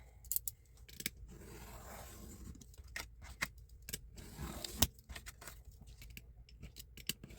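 Scissors snip through paper for a file folder in a run of close, crisp cuts, quiet and irregular, with pauses and faint rustling between the strokes.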